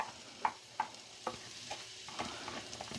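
Chopped onion dropped into melted butter in a pot gives a faint, steady sizzle, broken by several light clinks and scrapes of a spoon stirring at a slow, regular pace, with no speech.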